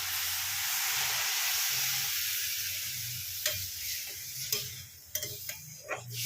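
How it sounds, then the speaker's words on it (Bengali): Water hits a hot pan of semolina and vegetables with a loud, broad hissing rush that fades after a few seconds into quieter sizzling broken by a few sharp clicks and taps. "সব মিলিয়ে নিয়ে এইবারে এতে জল ঢেলে দেবো।"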